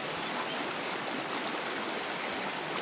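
An outdoor river flows as a steady, even rush of water, moderately loud and constant, with no clear birdsong and no talking.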